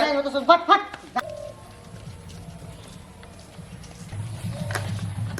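A duck bought at a market in Purulia gives a burst of loud, close squawking calls at the start, then falls quiet against a steady low rumble of outdoor background noise.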